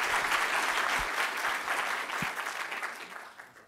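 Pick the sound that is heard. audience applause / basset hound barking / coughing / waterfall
audience applause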